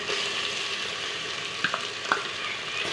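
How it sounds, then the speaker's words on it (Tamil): Ginger and garlic fry in a pan, giving a steady close sizzle with a few brief spoon scrapes as they are stirred. "வெள்ளைப்பூடையும் இஞ்சியும் நல்லா வதக்கிடுங்க"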